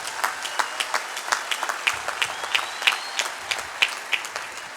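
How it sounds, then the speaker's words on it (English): An audience at a Founders Day AA talk in Akron, Ohio applauds with a thin, scattered patter of clapping, steady but not very loud, over a few seconds. "thank you for the applause"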